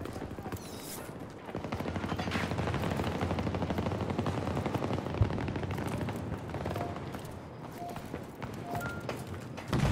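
A light machine gun fires in Battlefield 2042, a near, sustained rattle of rapid shots running almost the whole time with battle noise in the background.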